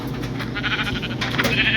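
Sheep bleating in Minecraft Pocket Edition (Bedrock), a wavering, nasal animal call over a steady low background.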